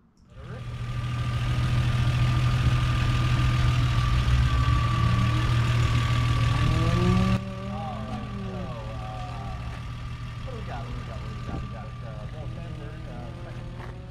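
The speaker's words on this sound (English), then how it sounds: "This is how my old setup was running with a distributor." A turbocharged Toyota 7MGE engine on distributor ignition, fitted in a Mk3 Supra, idles with a steady, rumbling drone that drops slightly in level halfway through, while a voice is briefly heard.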